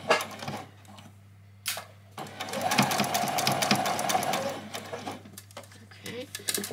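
A home sewing machine stitching fabric for a doll's dress, its rapid mechanical whir running in a short burst of a couple of seconds, close up, with a voice talking before and after.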